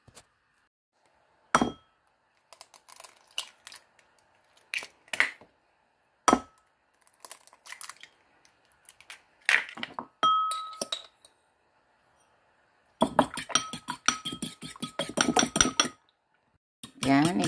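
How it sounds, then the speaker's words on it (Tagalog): Tomato and mushroom being chopped on a cutting board, with scattered sharp knife knocks and clinks separated by quiet gaps, then a faster burst of rapid chopping toward the end. "Maghiwa tayo guys. Hiwain natin. Hiwain muna natin ha."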